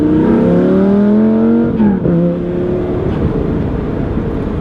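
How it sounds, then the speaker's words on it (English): A Lamborghini engine revs smoothly under applied throttle, giving a loud, close, steady tonal drone. Its pitch dips briefly partway through, then the drone settles into a rougher hum. "I'm rolling into the throttle super smoothly"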